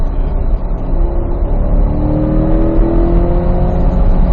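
A Corvette E-Ray with all-wheel drive accelerating hard on a track, its engine loud and close in a steady, rising drone that keeps climbing in pitch throughout.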